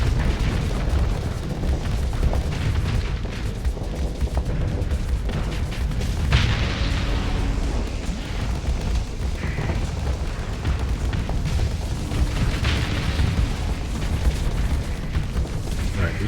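Space battle in the video game Starsector, with ship explosions booming repeatedly over a dense, continuous din of weapons fire and engine noise, loud and close throughout.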